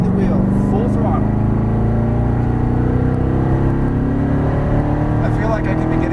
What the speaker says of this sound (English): Squeeze on the power as you unwind the wheel. Full throttle.